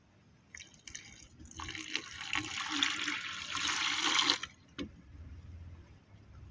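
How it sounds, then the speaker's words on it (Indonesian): Used water, left over from soaking gold-plated pins for gold recovery, poured through a filter, a steady trickling splash lasting a few seconds, fairly close, then fading to a few drips and quiet handling. "Airnya ini kita lewatin saringan."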